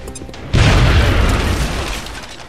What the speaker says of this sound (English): Now toss your grenade at the enemy in front of you